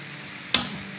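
Chilies frying in a pan as they are flipped, one sharp sizzling burst that quickly fades back to a low, steady crackle.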